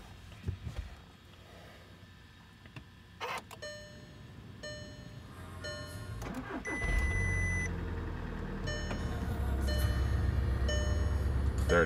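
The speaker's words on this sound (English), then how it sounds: "Let me start the car." A Volkswagen car with faulty signal and brake lights starts in extreme cold: scattered clicks and knocks give way to the engine catching and settling into a steady low idle that grows louder toward the end.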